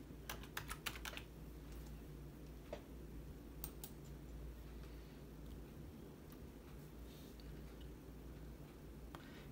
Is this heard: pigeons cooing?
no